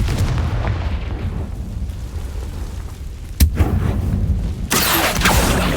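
A Confringo fire-blast spell in Hogwarts Legacy erupts with a sharp, loud blast partway through, then a second broad burst follows and lingers over rumbling game ambience, with no talking.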